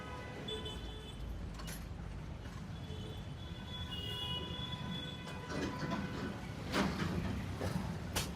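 A metro train at Mundka metro station in Delhi rumbles and clatters past on its rails, with wheel squeal and rattling growing louder toward the end, no talking.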